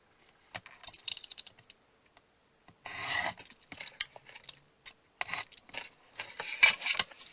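Paper being cut for a scrapbook album, with scattered bursts of snipping and rasping scissor strokes between short quiet gaps, close and fairly soft.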